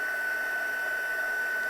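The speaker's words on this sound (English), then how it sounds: "we're going to get our heat tool" An embossing heat tool blows hot air over a powdered stamped image on a slimline card, giving a steady, even whir with a thin high whine that holds through the brief moment.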